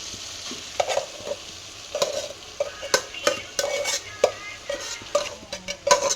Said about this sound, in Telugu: వేసుకున్న తర్వాత మంచిగా కలుపుకోవాలండి మనకు కర్రీ ఉన్న ఆయిల్ తోటి ఉన్న గ్రేవీ మొత్తం అన్నానికి అయితే పట్టుకోవాలి